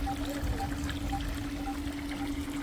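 Water gushes from a farm well pump's outlet in a steady, close pouring rush mixed with a constant motor hum, continuous across the short stretch.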